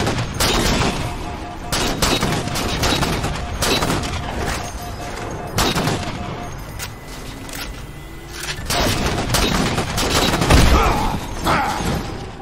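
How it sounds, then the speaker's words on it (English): Sustained gunfire in a gunfight, loud and close, with dense overlapping rapid shots and bursts that continue almost without pause, plus a few heavier booms. "Sir, this is an awkward gunfight."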